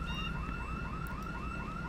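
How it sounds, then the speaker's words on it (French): A vehicle car alarm in the zombie survival game Project Zomboid whoops in a steady repeating rising tone, loud and continuous over low rumbling background noise. "Oh, alarme de véhicule."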